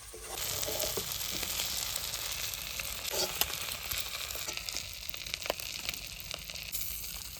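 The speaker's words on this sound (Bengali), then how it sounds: "সব মাছ ভাজা হয়ে গেছে" River fish frying in oil for a home-cooked Bengali meal, a steady, fairly loud crackling sizzle throughout with a few sharper pops and no talking.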